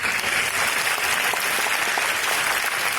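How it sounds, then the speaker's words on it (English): Loud, dense applause from a summit audience at opening remarks, a continuous wash of many hands clapping close and steady for a few seconds. "I would like to ask for a big applause,"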